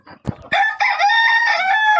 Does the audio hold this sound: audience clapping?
no